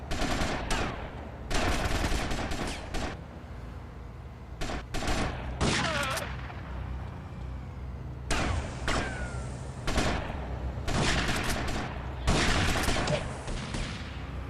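Gunfire from a gun in the game GTA Vice City: repeated loud bursts of rapid shots broken by short pauses across the whole stretch, over a steady background rumble.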